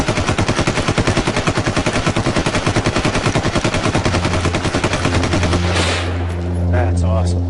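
Sustained automatic fire from an HK-416 assault rifle, a rapid unbroken stream of loud shots for about five seconds, then a cut to quieter ambience with a faint voice.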